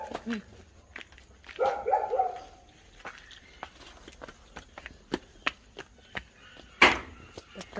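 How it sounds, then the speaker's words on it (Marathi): A dog barks a few times at close range amid scattered clicks and taps, with a brief louder bark burst near the end. "कुत्रा भारी है हम्म"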